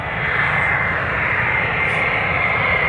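A KLM passenger jet departing Amsterdam Schiphol Airport roars as a loud, steady broadband engine rush, close and unbroken, with no talking.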